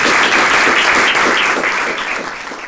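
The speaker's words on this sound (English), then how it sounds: "Give Troy a round of applause" An audience at a security talk gives a warm round of applause, loud and dense from the start and easing gradually as it fades.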